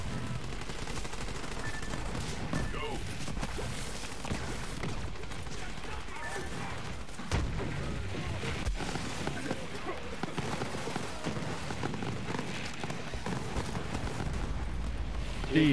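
Gunfire and grenade blasts from a Borderlands 3 co-op shootout, dense continuous rattling shots with heavier low booms scattered throughout, loud and busy with players talking over the action.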